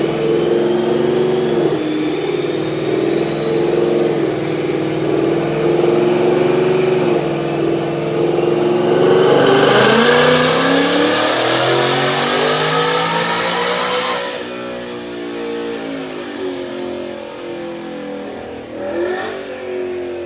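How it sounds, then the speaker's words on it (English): A supercharged 2019 Mustang GT automatic with a ROUSH TVS 2650 supercharger and long-tube headers revs on a dyno. The engine pulls up through the gears in long rising sweeps, loud and close, then winds down to a lower idle. "But now let's watch this dyno pull."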